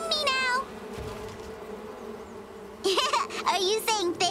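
Cartoon bees buzz in short, wavering bursts, one at the start and a louder cluster near the end, with quieter stretches in between and cartoon voices mixed in.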